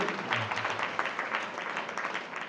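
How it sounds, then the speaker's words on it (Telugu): Applause from people gathered at a Sai devotional bhajan and satsang, a steady crowd of clapping hands sustained throughout, fairly dense and continuous with no talk over it. "సరే గట్టిగా చప్పట్లు కొట్టండి"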